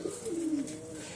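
A single pigeon gives a soft, drawn-out coo inside a home pigeon loft, faint and close, with a quiet room hush around it.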